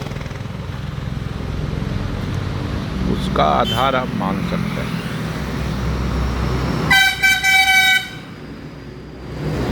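Busy roadside traffic with multi-wheeled trucks in Jamui district, Bihar: engines rumble close by as a horn toots in a short burst and a longer, louder blaring horn follows, with someone talking throughout.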